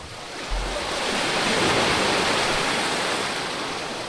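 Sea waves on a choppy day, a loud, broad rushing wash of surf that swells and holds for several seconds, close by with no voices.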